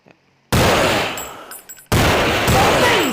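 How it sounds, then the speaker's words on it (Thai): Two loud scoped-rifle shots in Counter-Strike, each a sharp close blast followed by a long ringing decay, spaced about a second and a half apart. "สองดอกสองนัดศัตรูตายแล้ว"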